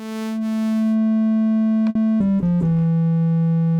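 A steady synthesizer triangle-wave oscillator tone hums at a low pitch, with a few brief clicks and pitch shifts near the end as the sound is adjusted.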